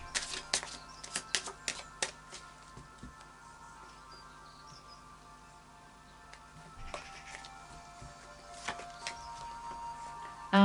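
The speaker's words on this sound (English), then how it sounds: "I'll just do a final shuffle of the Moonology cards for you" Moonology oracle cards being shuffled by hand, a run of quick soft flicks and riffles at close range, then a quieter pause before another brisk burst of card snaps near the end, with no talking.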